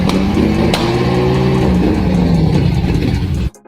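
Lamborghini V12 engine, restarted after seven years in storage and rewired, running with a loud, steady rising drone and revving tone close by, cutting off abruptly just before the end.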